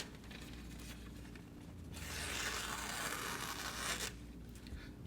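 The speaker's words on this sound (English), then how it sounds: "kind of hard to get that long old blade all the way down a sheet of paper" A long Bestech knife blade of D2 steel slicing down through a sheet of paper, a single dry rasping tear lasting about two seconds, close and fairly quiet with no voices.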